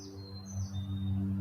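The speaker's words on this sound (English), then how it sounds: "we can hear the birds chirping and singing their song of praise" Birds chirp and sing high thin calls over a steady low hum, a few short tweets and a longer sliding note.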